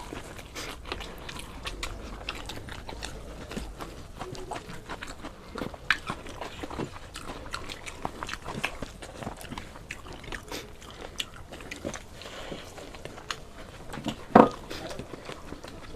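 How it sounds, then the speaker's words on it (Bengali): Street food thali being eaten at a mukbang challenge, with egg noodles and Mughlai paratha: close chewing and biting with soft mouth sounds and occasional clinks, steady throughout with one sharper knock near the end. "অনুপ কিন্তু ভালোই খাচ্ছে"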